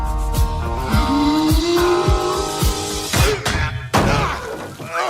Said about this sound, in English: He dented the car!